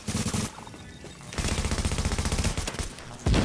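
Shock turret firing in a video game, rapid machine-gun-like bursts in two long loud stretches separated by a short pause, ending with a heavier blast.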